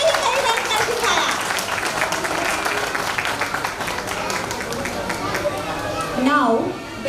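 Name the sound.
parents applauding at school annual day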